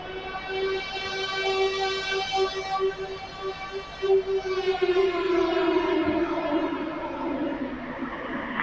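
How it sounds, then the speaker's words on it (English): Wailing air raid sirens rise and fall continuously, with several overlapping tones echoing across a wide area amid faint background noise. "Listen to the air sirens going off in this."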